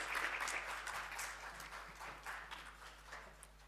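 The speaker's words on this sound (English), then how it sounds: "So I would ask to have a round of applause for our minister." An audience at a government launch event for a youth coding initiative claps for a minister, a moderately dense round of applause that starts strong and gradually thins out, heard faintly with a low steady hum beneath.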